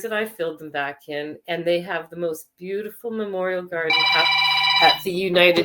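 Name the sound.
phone ringing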